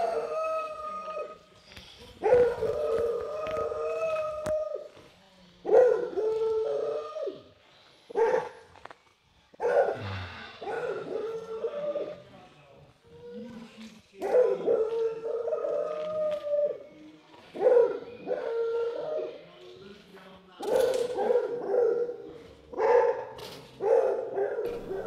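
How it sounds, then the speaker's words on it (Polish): A dog barking and howling repeatedly near an underground complex entrance, loud, irregular bursts of yelps and drawn-out howls spread across the whole stretch, alone without talk. "Tyle hałasu narobił ten burek, który najpierw obszczekał"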